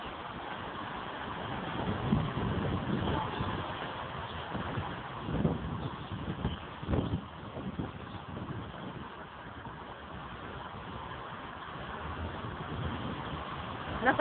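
Strong typhoon wind gusting outside during a flood in Marilao, a continuous rough, muffled rush that swells and fades, with people talking faintly nearby.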